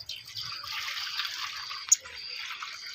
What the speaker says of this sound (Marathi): सकाळी मी तांदूळ धुतलेला होता त्यातलं आपल्याला हे पाणी आता आपण काढणार आहे